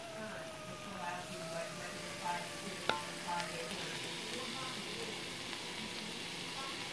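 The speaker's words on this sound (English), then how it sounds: "And the rice is coming to a boil." Rice coming to a boil in a pot with a soft, steady bubbling hiss, fairly faint, with one brief clink partway through and a voice speaking quietly over it.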